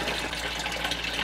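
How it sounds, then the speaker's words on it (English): Water steadily refilling an aquarium tank, a continuous broadband gush and splash that stays loud and even throughout with no talking. "Let's keep refilling the water."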